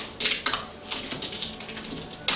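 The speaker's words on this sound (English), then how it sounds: "You're going to take off the tape." Clear security tape peeling in several quick ripping strips off the door of a kosher kitchen, close and crisp, with sharp tearing bursts spread across a short stretch.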